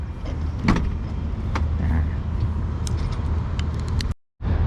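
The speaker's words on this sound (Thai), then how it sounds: "ได้ฝาท้าย ไฟฟ้าแบบนี้ก็ ถือ ว่า ดี แหละ" Electric power tailgate on a Mercedes-Benz CLE running with a steady motorised hum close by, a soft clunk partway through, and a brief cutoff near the end.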